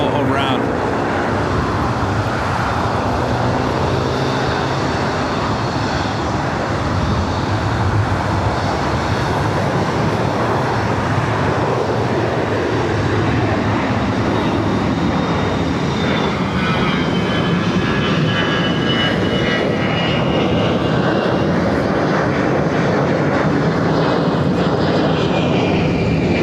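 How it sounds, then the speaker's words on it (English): A jet airliner arriving from Atlanta aborts its landing and goes around at LAX, its engines roaring loud and sustained throughout with a rising, shifting tone, while a voice talks over it. "This flight coming in from Atlanta now, having to go around."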